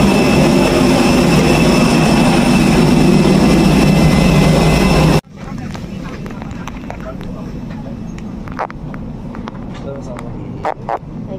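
A Super Air Jet airliner at Aceh airport gives off a loud, steady jet engine roar that cuts off abruptly, leaving quieter airport ambience with scattered clicks and knocks.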